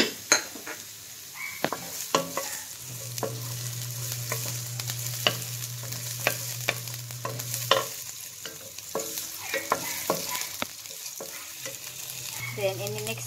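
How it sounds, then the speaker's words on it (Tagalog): Onion sautéing in cooking oil in a cooking pan, a steady close sizzle with repeated stirring scrapes and clinks of utensil against the pan throughout. "So ngayon, iuna po natin pagsute yung ating onion."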